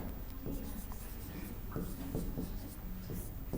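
A pen scratches words onto paper by hand in short, irregular strokes, a soft close scraping with faint background noise.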